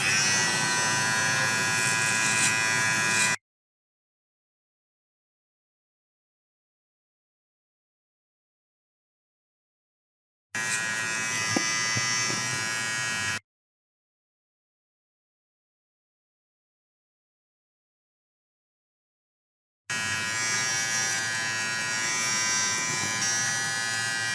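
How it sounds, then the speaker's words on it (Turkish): A Powertec TR-4400 beard and hair clipper runs in three separate bursts of steady, close electric buzzing, each lasting about three seconds, with complete silence between them. "saç kesim makinesi bu şekilde çalışır"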